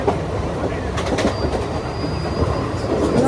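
A train runs along the rails with steady broadband rumble and rattle, a faint high squeal drifting through the middle, loud and continuous throughout.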